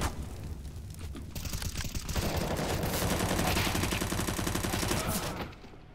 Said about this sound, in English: Damn, I love shooting weapons